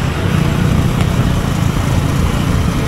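A steady, loud engine drone runs throughout from a Yamaha R15M motorcycle cruising along, with constant rushing noise and no talking.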